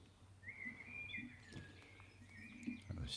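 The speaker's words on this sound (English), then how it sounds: "it's just lovely to hear this bird singing in the garden" A bird singing in a garden, thin whistled phrases and chirps, faint and somewhat distant over low background rumble and small clicks, no one speaking.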